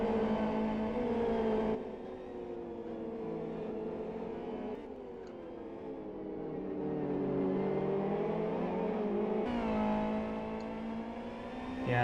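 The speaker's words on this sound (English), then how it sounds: "he's now accelerating out of the tight hairpin into this very long quadruple right-hander" A race car in the Live for Speed racing game accelerates out of a tight hairpin, its engine droning and rising steadily in pitch through the upshifts, a continuous moderate whine heard alone.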